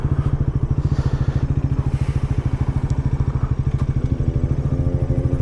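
A Bajaj Pulsar NS400 motorcycle ridden through Kyiv in the evening, its engine a loud, close, steady rhythmic thrum with even pulsing and faint road noise above.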